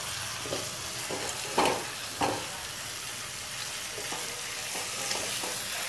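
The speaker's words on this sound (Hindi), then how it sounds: "इसको हम 5 मिनट तक ऐसे चलाते रहेंगे ताकि चिकन के अंदर अच्छे से मसाले का सारा फ्लेवर चला जाए और चिकन भी पक जाए।" Chicken curry with masala stirred and fried in a pan: a constant close sizzle broken by a few louder scraping strokes of the spoon.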